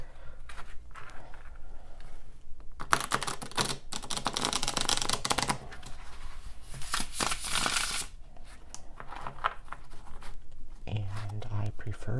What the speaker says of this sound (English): my preferred way to shuffle the cards was to bridge shuffle them or riffle shuffle them like a poker deck